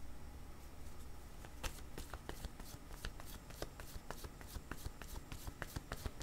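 Tarot cards being shuffled and handled for a reading, a rapid run of crisp flicks and snaps at a fairly even rhythm, close and steady, with no talking.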